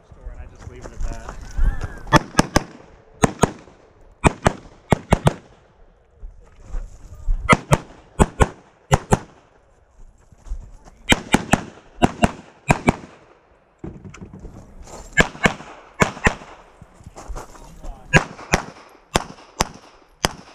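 Carbine gunshots ring out during a shooting competition stage, sharp, loud cracks fired in quick clusters of several shots with brief pauses between groups.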